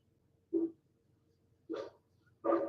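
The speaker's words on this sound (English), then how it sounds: "I hear them barking." Dogs barking outside: three short muffled barks spaced about a second apart, faint and distant against a quiet background.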